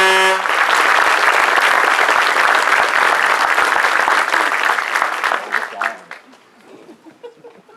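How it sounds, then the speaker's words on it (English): Spouses and family members at an airman leadership school graduation receive a loud, dense round of applause from the audience that holds steady for about five seconds, then fades out. A few murmurs and faint voices follow. "well-deserved round of applause."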